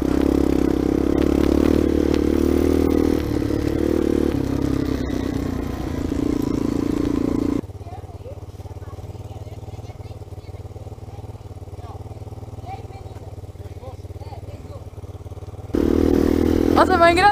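A Yamaha XJ6 motorcycle engine drones loudly and steadily on an off-road trail, drops away to a quieter background for several seconds, then roars back in.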